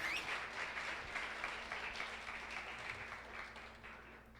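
A church congregation applauds in praise during a service, a faint, distant and continuous patter of clapping that slowly fades.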